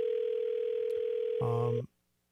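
A telephone line tone plays steadily on an outgoing call awaiting pickup, then a brief, louder chord-like beep sounds before the line abruptly cuts to silence.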